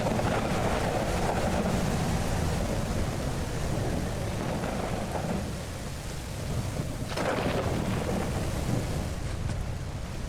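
A thunderstorm in the survival game Mist Survival: steady, heavy rain hisses continuously while low thunder rolls underneath, with a brief swell of thunder partway through and no voices.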